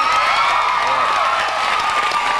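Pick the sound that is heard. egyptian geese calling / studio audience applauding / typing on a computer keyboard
studio audience applauding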